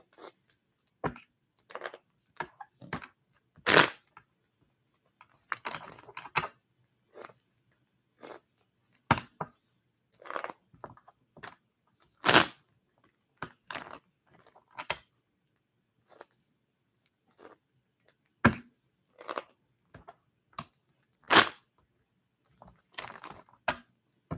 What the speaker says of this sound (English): I feel the need to shuffle a bit more than normal to mix it all up